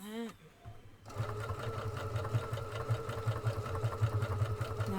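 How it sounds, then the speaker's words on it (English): A Creative 1.5 sewing machine stitches a pattern at steady speed, its rapid needle knocking forming a close, regular mechanical rhythm after a short pause at the start. "I'm just going to stitch that as it comes"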